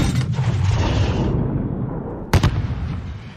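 A grenade blast in the Call of Duty video game rumbles as a dense, sustained low roar amid battle noise, with a sharp crack near the end.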